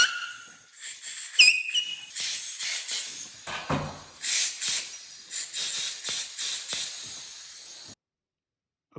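Compressed air blowing in short hissing bursts while a rubber grip is worked onto the handlebar of a 2021 Ski-doo 850 Turbo snowmobile, with squeaks and rubbing in between, close and fairly loud.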